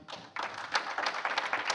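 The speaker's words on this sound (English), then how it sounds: "One last round of applause" An audience at a tech panel on flying cars and drones claps to thank the panelists, a short burst of scattered hand claps in a room, moderately loud and slightly uneven.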